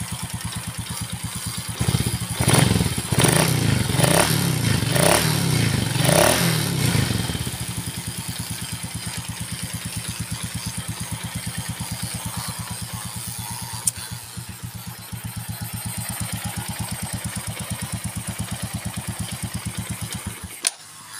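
A Yamaha Force motorcycle engine idles steadily after its idle screw is adjusted, a close, even mechanical putter with a short revving burst at the start.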